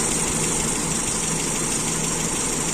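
A motorcycle carburetor engine with a lean idle mixture runs at a steady idle, a loud, continuous buzzing drone with a faint uneven knock and no talk.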